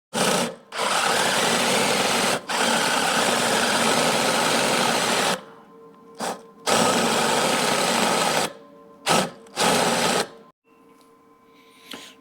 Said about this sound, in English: we'll get some more pieces cut and get it welded up